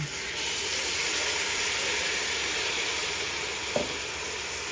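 Hot water from a kettle poured onto browned lamb shanks in a pan, a loud steady sizzle and hiss that fills the whole stretch, with a brief knock near the end.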